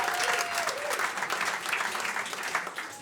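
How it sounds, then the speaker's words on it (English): Audience applause from married couples at a stand-up comedy show, steady dense clapping throughout with a brief faint voice near the start. "Married people, clap, round of applause."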